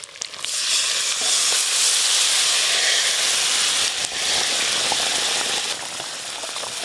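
Spice paste mixed in water poured over rohu fish frying in mustard oil, bursting into a loud, sustained hissing sizzle with steam that eases slightly near the end, over faint stirring.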